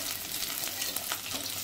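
Hot oil sizzling in a pan over a low flame while a chhena dhoka dalna is cooked, a dense continuous frying hiss, close and fairly loud, brief and without speech.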